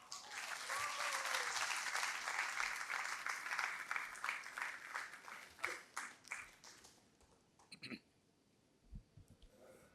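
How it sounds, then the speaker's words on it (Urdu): Audience at an Urdu literary conference breaking into sustained applause in a hall, dense clapping that gradually thins into scattered claps and a few faint voices. "آپ کی بہت ساری تالیاں"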